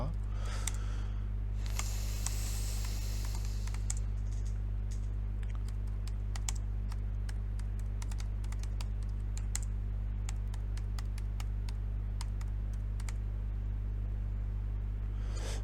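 Keys clacking on a computer keyboard while writing in Word, bursts of quick close taps over a steady electrical hum, with a voice talking at times.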